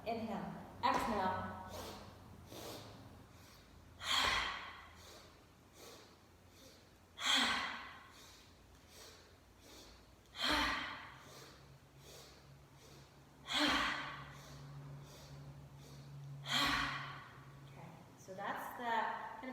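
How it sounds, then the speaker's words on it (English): Rhythmic yoga breathing during a therapeutic yoga class, with strong breaths repeating in a steady cycle about every three seconds, close and prominent over a quiet room. "Inhale, inhale, inhale, exhale."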